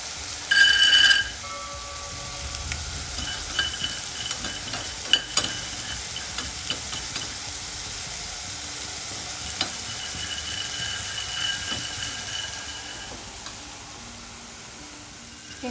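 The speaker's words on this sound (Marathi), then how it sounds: "शेंगदाणे भाजलेली आहे आपली" Peanuts and sesame seeds dry-roasting in a pan, a steady soft frying hiss with light scraping stir sounds and a few sharper clinks, continuous and close, without talk.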